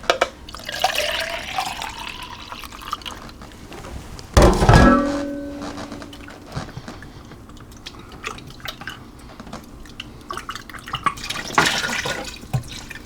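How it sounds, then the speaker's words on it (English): Water splashes and trickles into an Instant Pot with chicken, with a sharp pour and drips near the start of the pour, then softer liquid sounds and clinks. "I'm going to add the rest of my water into that can."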